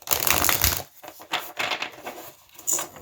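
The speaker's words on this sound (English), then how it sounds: "I'm shuffling the deck, and here we go." A deck of cards being shuffled up close, with quick riffling bursts separated by brief pauses.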